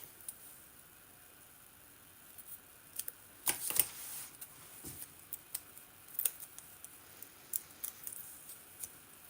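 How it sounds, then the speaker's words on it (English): Paper snips trimming a sheet of paper for a handmade card, heard as faint, scattered crisp snips and small rustles in a quiet room, with no talking. "I'll just take my paper snips to cut it down"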